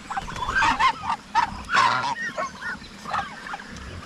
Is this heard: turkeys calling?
yes